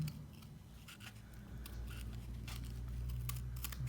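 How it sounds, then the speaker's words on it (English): Scissors snipping paper while fussy cutting around a gingerbread gnome design, giving a steady crisp rasp with repeated light snips close to the mic over a low hum. "And notice how the scissors is going in there so smooth."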